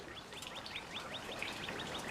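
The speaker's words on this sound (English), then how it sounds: "And listen to those birds." Birds chirping outside, a quick string of short rising tweets repeated rapidly, moderately loud over soft background ambience.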